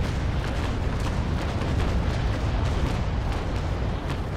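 Ship cannons fire a broadside in the Naval Action video game during a battle of three Bellona ships against the Victory, a dense, sustained series of loud, overlapping booms rumbling together for several seconds with no talking.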